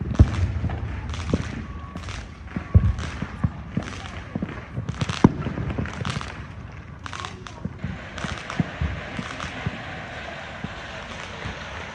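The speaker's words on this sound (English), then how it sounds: "sounds like some people are lighting up firecrackers" Firecrackers go off on New Year's Eve during a neighborhood night walk, a string of sharp cracks and pops at irregular intervals, some near and some distant, over a low background rumble.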